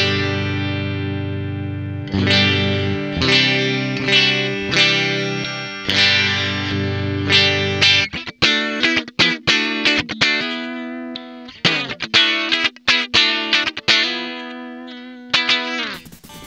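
A Soloking MT-1 Telecaster-style electric guitar plays in a clean tone: sustained chords ring out first, then a run of quicker picked notes and short chord stabs, bright and close with no talking.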